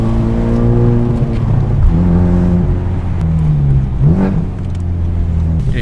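A Honda Civic Type R drives with a steady, loud engine hum from inside the cabin, the pitch climbing and dropping as it runs through the gears, with road rumble underneath.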